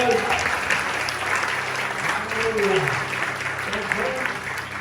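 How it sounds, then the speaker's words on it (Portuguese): Congregation at a live Brazilian church service giving a round of applause, steady dense clapping from many hands lasting throughout, with voices audible underneath. "Dá uma salva de palmas, querido."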